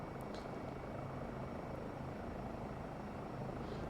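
A Eurocopter EC135 helicopter's engine spools up in the MSFS 2024 simulator, a steady turbine whine and broad rushing hum holding constant and fairly loud, with a few faint clicks near the start.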